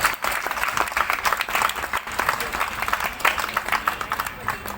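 An audience at a Hindu community gathering claps loudly to honour two women guests, a thick, continuous burst of many hands that carries on for several seconds.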